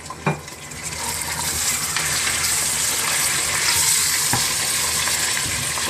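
Meat for nihari, added to browned onions, sizzles loudly in a pan as it is stirred, a steady close frying hiss with occasional scrapes and clinks.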